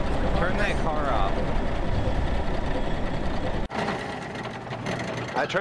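A car engine idles loudly and steadily in the DayZ survival game, a dense mechanical drone that runs under voices and cuts out briefly near the end before resuming.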